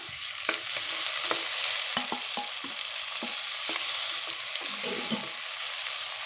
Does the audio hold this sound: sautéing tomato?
yes